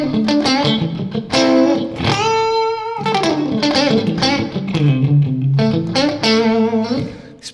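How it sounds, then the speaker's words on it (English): Electric guitar played with clean tones through split humbucker pickups in the middle position on a Gibson-style copy, a steady run of picked notes and chords with no talking. "I got some clean tones dialed up here."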